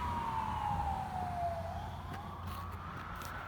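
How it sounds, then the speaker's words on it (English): A distant ambulance siren wails, its pitch sliding down and rising again, faint over low background rumble. "sirens. It's a ambulance."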